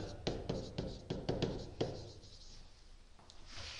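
A teacher writes by hand during a Turkish grammar lesson on verbs, giving a run of short scratchy strokes in the first two seconds, then a quieter pause and a faint final scrape, with no talk.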